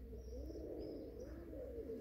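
Raised pigeons coo softly, with low, rolling murmurs and a few faint chirps, quiet and steady with no talk.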